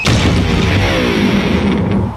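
An electric guitar thrown off a building crashes in a single loud impact with a booming body resonance and ringing, jangling strings that fade over about two seconds.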